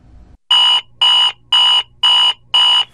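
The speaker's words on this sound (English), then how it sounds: "the alarm goes off at 5 in the morning" Loud electronic alarm beeping in the early morning: five identical piercing tones in a steady on-off rhythm, close and alone after a brief low rumble.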